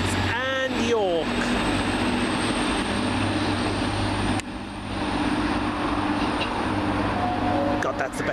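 A train passes through Warrington with a loud, continuous rumble and roar that holds steady for the whole stretch. A brief higher whine rises near the start, and a faint voice is heard once.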